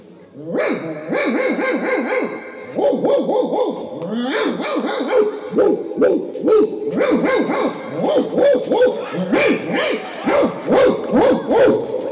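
A person imitates a big dog's deep barking, loud and close, in quick repeated bursts that keep going with only short pauses.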